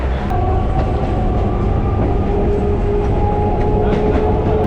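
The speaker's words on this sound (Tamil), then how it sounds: "இப்போ ட்ரெயின் வந்து எக்மோர் ரயில்வே ஸ்டேஷன் வந்து என்ட்ரி ஆகுது" A suburban train rumbles steadily into Egmore railway station in Chennai with a clattering roll and faint metallic squeal, moving close by without any voices.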